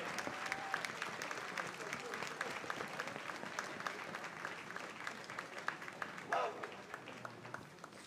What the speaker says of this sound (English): a round of applause for the internal security display.